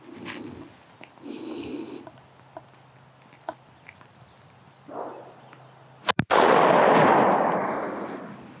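A .577 Snider rifle firing 130-year-old ammunition gives one sharp, loud report after a stretch of quiet outdoor sounds, then a long booming echo that slowly fades.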